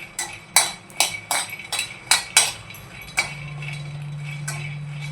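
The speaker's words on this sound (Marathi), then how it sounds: "असं फिरवत आपल्याला शेंगदाणे भाजून घ्यायचे 2-3 मिनिटं।" A utensil stirs peanuts roasting in a pan over low gas, giving a series of sharp metallic clinks and scrapes at irregular intervals, fairly close. The strokes give way to a steady low hum in the last couple of seconds.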